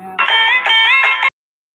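A phone ringing with an incoming call during a live stream, a loud, close, electronic melodic ringtone lasting about a second before cutting off abruptly.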